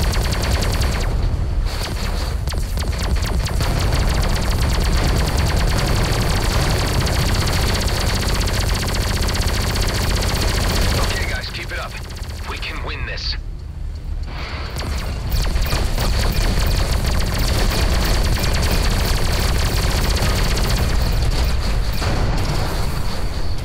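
Rapid, dense spaceship turret fire in Everspace 2 pounds almost continuously and loudly, with a short lull in the middle before the barrage resumes at full intensity.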